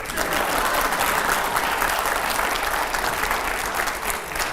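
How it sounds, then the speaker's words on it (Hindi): Loud, steady applause from a crowd at an interview fills the whole stretch without a break. "जोरदार तालियों यहां पर, दिखाइए जरा"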